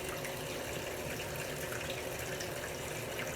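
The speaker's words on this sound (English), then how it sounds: "Just going to rinse the brushes under the water" Make-up brushes rinsed under a running tap, with a steady, even hiss of water splashing into a sink that continues without a break.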